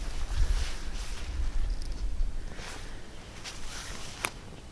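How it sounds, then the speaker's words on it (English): Wind gusts buffet the microphone outdoors during a pine fire-starter burn test, a low rumbling rush with a few sharper bursts and a brief click, no voices. "There's a decent wind here."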